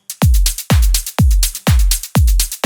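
A punchy melodic techno drum beat with deep booming kicks, a ride and claps on top, repeating in a steady, loud groove.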